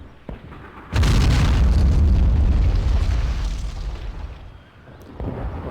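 A mortar round fired in a war video game lands with a loud, deep rumbling explosion that swells and slowly decays, followed by a smaller thud, after a brief quiet lead-in.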